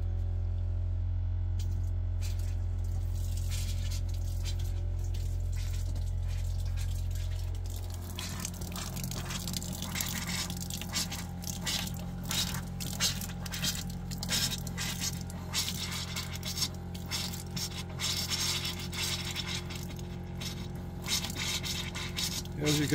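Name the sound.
RV water pump running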